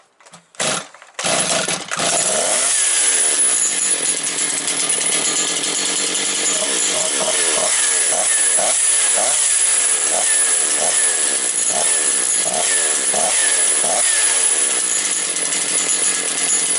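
A Motor Sich 475 engine catches after brief starting bursts, then runs loud and steady at idle with a rough, pulsing beat for the rest of the stretch.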